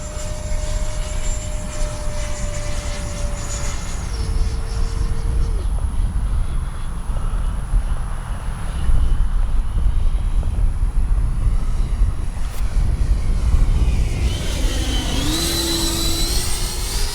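A Freewing 90mm J-10 RC jet circles overhead, its loud, continuous turbine whine rising and falling in pitch as it passes, with a steady roar throughout and a sharper climbing whine near the end.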